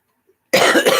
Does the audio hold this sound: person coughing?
yes